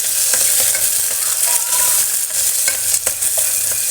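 Small onions with spices for Kerala-style beef curry fry and crackle steadily in a pan, with a spoon scraping and stirring in short strokes over the constant sizzle; no one talks.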